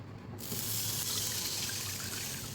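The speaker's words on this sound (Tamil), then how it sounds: "இப்போ இதே பேனில் நம்ம 1 கப் தண்ணி ஊற்றிக்கலாம்." A cup of water poured into a pan while making semiya kesari, a steady close splashing gush that starts abruptly and keeps going evenly, with no talk.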